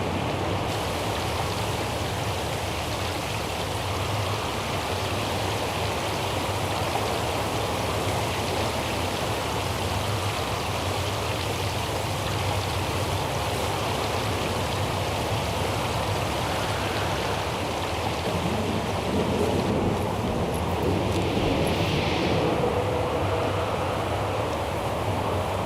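Steady rainstorm in Syberia 4: The World Before, a continuous hiss of heavy rain and rushing water running alone at even loudness throughout, with no clear thunder peal standing out.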